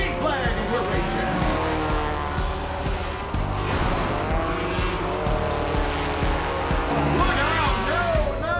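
Four-cylinder stock cars roar around an oval track after the green flag, engines loud and continuous with tires squealing through the turns, while a commentator talks over the racing.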